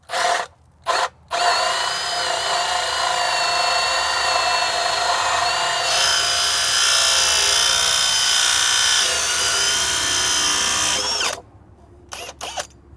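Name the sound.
drilling wood with 3-inch Forstner bit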